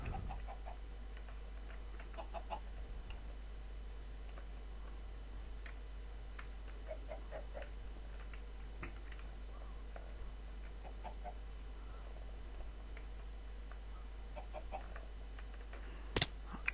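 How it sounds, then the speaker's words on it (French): Hen in a video game clucking in short, scattered bursts over a quiet background hum, with a sharp click near the end. "Que fait cette poule?"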